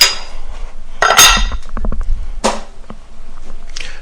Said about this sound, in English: Tighten up the drawbar.